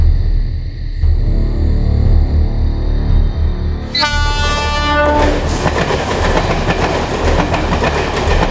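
A train rumbles through the Jogeshwari rail yard at night, with a steady low rolling drone. A loud horn blast rings out partway through, followed by rhythmic wheel clatter and rattling carriages close by.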